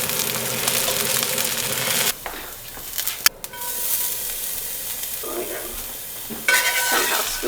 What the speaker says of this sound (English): we're frying it in extra virgin olive,